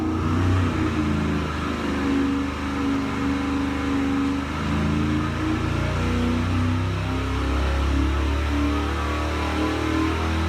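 A naturally aspirated engine runs before a Cadillac supercharger is installed, giving a loud, steady droning rumble with slight shifts in pitch throughout.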